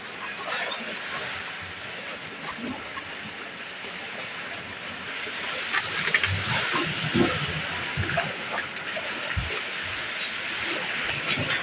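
Sea waves building at a fishing spot, a broad continuous wash of surf rumbling and hissing nearby, with occasional louder swells and a few faint knocks.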